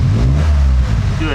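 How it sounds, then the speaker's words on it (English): A 2022 Subaru WRX engine idles and revs with a dense, loud low rumble close by, and the pitch rises slightly toward the end. A voice speaks over the engine. "Okay, Julie, go ahead and give it a little gas"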